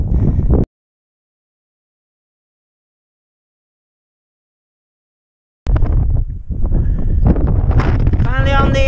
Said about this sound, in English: as you can hear, the wind is unbelievable up here.